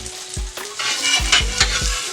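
A smoked sausage sandwich with melting cheese sizzles loudly on a hot steel griddle, with a constant hiss broken by several dull thumps and scrapes from a spatula.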